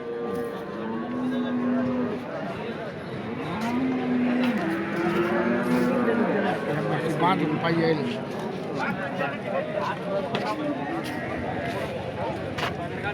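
Loud, drawn-out cattle moos repeat over a busy crowd din at a cattle and buffalo market in Deulgaon Raja, with people talking nearby and constant background bustle.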